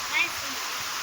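Heavy monsoon downpour over horticultural crops, with rushing water: a dense, steady hiss that fills the whole moment, and a brief voice-like swell near the start.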